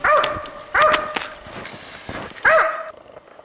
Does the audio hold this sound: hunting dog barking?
yes